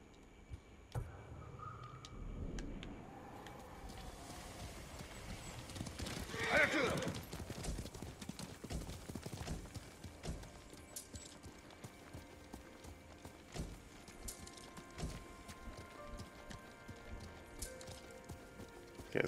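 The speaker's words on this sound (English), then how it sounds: "You're a good horse, Nobu" Horse hooves clip-clop and a horse neighs in the video game Ghost of Tsushima, a quiet rhythmic trot with a louder whinny partway through, heard alongside game sounds and someone talking.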